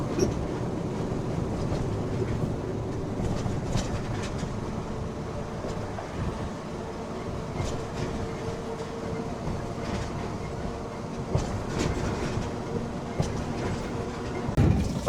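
A freight container train rolls along a private track beneath a bridge near a railway station in Assam, a steady loud rumble with clattering wheels and wagon rattle sustained throughout, no talking.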